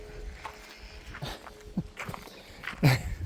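A small dog plays and tugs at a person's pants indoors, making soft scuffling and a few light thumps and muffled yips, fairly quiet with faint room hum beneath.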